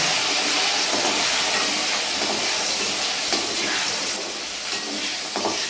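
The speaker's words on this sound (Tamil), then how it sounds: "கடுகு பொரிஞ்சிச்சு, உளுத்தம்பருப்பும் செவந்துருச்சு." Mustard seeds splutter in hot sesame oil: dense, continuous crackling and sizzling, loud and close, a busy hiss of tiny pops that never lets up.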